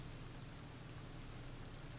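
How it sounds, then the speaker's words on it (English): Steady, faint rainfall hisses evenly throughout, a soft continuous wash of noise with no voices. "all you can hear is the sound of rain"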